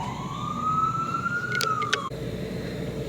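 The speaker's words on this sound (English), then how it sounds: "I just wanted to take a quick pause because the ambulance was coming" An ambulance siren passing through New York City, a wailing tone that rises and then falls away before cutting off, heard against steady street noise.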